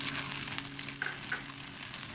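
Glass noodles stir-fried in a pan with seasoning powder, sugar, light soy sauce and oyster sauce give a steady, close sizzling hiss throughout, with faint scraping of stirring.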